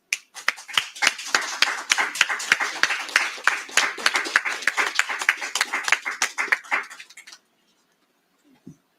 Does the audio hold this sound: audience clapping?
yes